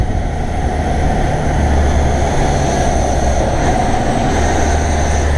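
A vehicle engine rumbles steadily and loudly with deep low-end drone while downshifting off a freeway, its pitch shifting as gears drop, no voices present.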